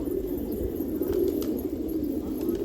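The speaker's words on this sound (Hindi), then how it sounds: "ये कलपोटिया देखिए, चोटीदार कबूतर है।" Patiala crested pigeons on a rooftop give low, continuous cooing throughout, a steady murmuring drone at moderate loudness with faint background noise.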